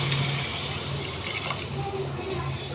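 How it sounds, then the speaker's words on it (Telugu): Tamarind juice is poured into a pan of egg curry, making a steady splashing, trickling stream of liquid that runs close and fairly loud for a few seconds without pause. "చింతపండు అయితే సూప్ తయారు చేసుకోవాలి దీన్ని ఇప్పుడు ఇందులో పోసేద్దాం"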